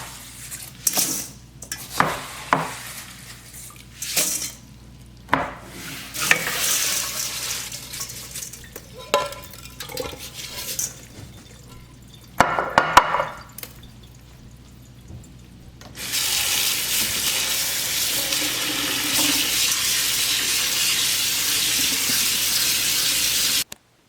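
Arbequina black olives being washed by hand, with clattering and sloshing that gives way to a steady rush of tap water running into a sink for the last several seconds. No voices.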